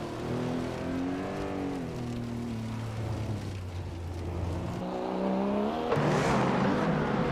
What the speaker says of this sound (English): Amy is driving a 2011 Mercedes SLR. Sterling Moss.